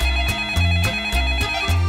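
A cartoon telephone ringtone plays loud and close, a looping electronic melody with a pulsing rhythm repeating about four times in two seconds, with no voices over it.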